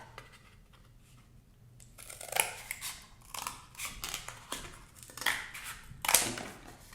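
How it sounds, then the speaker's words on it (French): Scissors crunch through cardboard for a handmade book, several close, crisp cutting strokes in uneven bursts, with no voices. "j'ai rejoint le milieu de mon carton. Donc je découpe."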